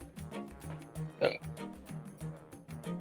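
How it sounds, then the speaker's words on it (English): A short, throaty hiccup bursts out of a person once, close and fairly loud, amid low background sounds. "Try and drink some water for that hiccup first, at least."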